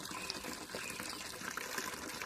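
Steady running water pours continuously, as from a tap or flowing channel, a broad even rush that stays fairly close and constant throughout with no voices.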